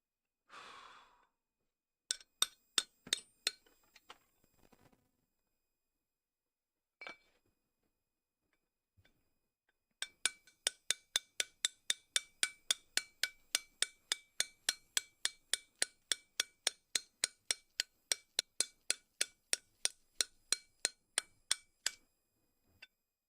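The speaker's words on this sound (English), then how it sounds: "Alright, we're chiseling, people." Hand chisel and hammer cutting into stone to carve a bowl, with no power tools. Close, sharp metallic taps come in scattered bursts at first, then settle into a long, steady, rapid rhythm of strikes.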